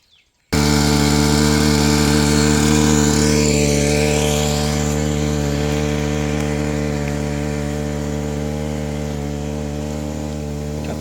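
A boat-mounted engine-driven water pump for watering plants runs steadily and loudly throughout, a strong droning hum with a buzzing, chainsaw-like tone that starts abruptly and holds even.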